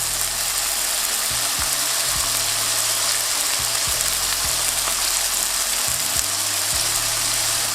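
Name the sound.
smashed burger patties sizzling as they cook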